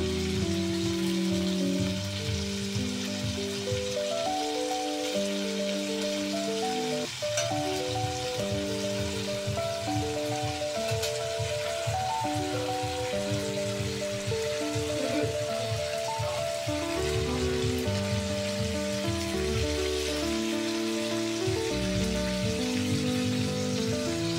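Baim fish (spiny eel) fries in hot spiced oil, a steady dense sizzle that runs without pause beneath background music.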